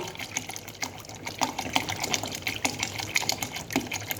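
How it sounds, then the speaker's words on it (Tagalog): Water pours into a cooking pot of sinanglaw soup with carrots, a steady splashing gush up close, running continuously without speech. "Dagdagan natin ng tubig."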